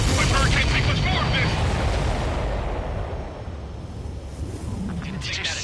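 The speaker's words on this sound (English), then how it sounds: "Did you see that explosion?" A big explosion in the jet combat video game Ace Combat 7 opens loud with a dense broadband roar, then slowly fades into a rumbling tail over several seconds.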